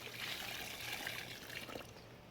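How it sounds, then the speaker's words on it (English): Fish emulsion mixed with water is poured from a bucket onto soil in a 5-gallon potato-growing bucket, a soft, continuous splashing trickle that stays low and steady, with no talking. "So I got fish emulsion in this bucket with some water, and we're just gonna pour that on top."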